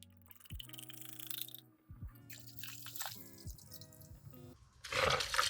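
A 50-50 blend of antifreeze and distilled water glugs and trickles into a BMW F30 cooling system in uneven bubbling bursts, close by, ending with a louder rushing splash.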